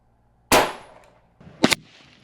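One sharp, loud crack from an Umarex Gauntlet 2 SL PCP air rifle, with a brief fading tail and a second, softer metallic snap about a second later, set against quiet outdoor air.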